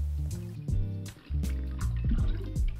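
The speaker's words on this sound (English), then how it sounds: "So you just want to squeeze it out, measure it, and pour it directly into the glass." Lemon juice poured into a glass while mixing a Longest Day cocktail, a close, continuous trickle and splash that briefly pauses and then resumes.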